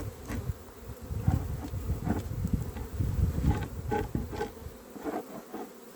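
Honeybees buzzing around an open nucleus hive, a continuous close drone with individual bees flying past the ear in swells and dips.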